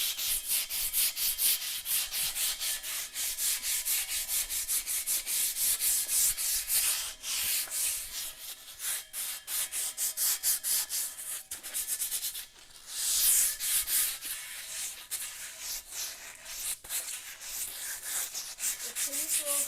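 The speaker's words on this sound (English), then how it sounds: "this is just scuffing it up a little bit just to give it something, give the paint something to hold on to." Sandpaper scuffing a surface before painting, continuous rhythmic rubbing strokes with short pauses, close and alone with no talk.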